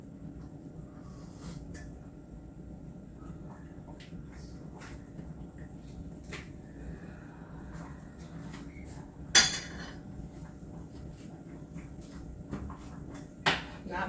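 Spoons and kitchen utensils clink and tap sporadically while Jamaican pumpkin soup is cooked, soft scattered knocks over a low background hum, with a few sharper clatters near the end.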